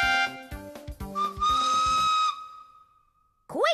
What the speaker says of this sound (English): Quick, Jasper! Blow your whistle!